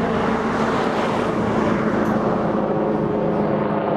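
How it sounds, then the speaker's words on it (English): A jet aircraft, probably a private plane, passes overhead near Sheringham Park by Cromer, giving a loud, steady broadband roar that fills the whole stretch with no distinct rise or fall, heard outdoors with no voices. "Not often I get jet noise interference up here, but there is one very rare example."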